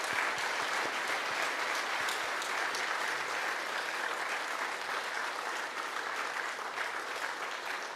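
A congregation at a Korean joint church worship service applauds warmly, a dense and steady clapping that holds at an even loudness throughout.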